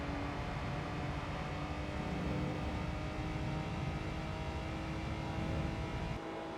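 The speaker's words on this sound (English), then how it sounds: "The only thing you hear is the turbo." A turbocharged car engine in the racing video game Gran Turismo 3 drones steadily and loudly throughout, a continuous engine and turbo hum that ends in a brief drop-off near the end.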